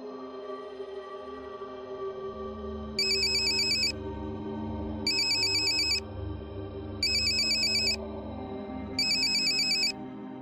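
A mobile phone ringtone in a Marathi TV serial scene, four identical bursts of electronic ringing about a second long, repeating every two seconds over a quiet musical background.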